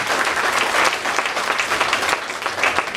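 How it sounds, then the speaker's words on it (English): A crowd at a community re-entry program graduation gives a round of applause, dense and continuous clapping with scattered louder individual claps, steady throughout. "Give them a round of applause"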